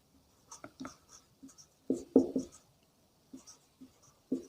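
A pen scratches across paper during a geometry proof. The strokes come in short, close, quiet bursts with small pauses between them, and nobody speaks.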